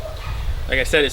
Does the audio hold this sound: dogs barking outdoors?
yes